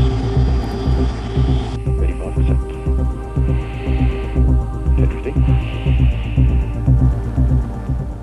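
The Thrust SSC jet-powered car makes a loud, sustained jet roar during a high-speed run, steady and heavy throughout with a narrator speaking over it.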